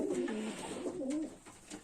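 Pigeons cooing in a dovecote, several soft, low, rolling coos from nearby birds in quick succession with faint rustling between them.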